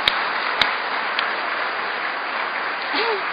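An audience at a family recovery speaker meeting applauds, a sustained, even roar of clapping with a few sharp close claps standing out and faint voices in the crowd.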